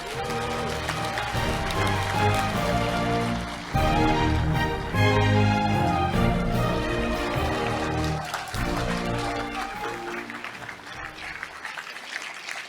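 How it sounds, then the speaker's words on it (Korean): Audience applause welcomes a district mayor at a New Year address, steady clapping running throughout beneath loud, sustained music. "여러분 힘찬 박수로 맞이해 주시기 바랍니다"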